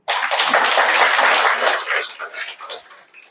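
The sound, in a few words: audience clapping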